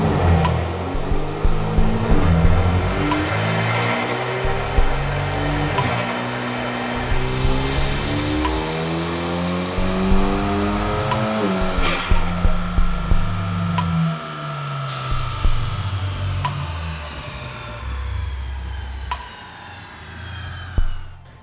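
A car is run through a series of dyno pulls on a rolling road, its engine loud and close, repeatedly winding up through the revs, dropping back and climbing again, with a sharp pop near the end.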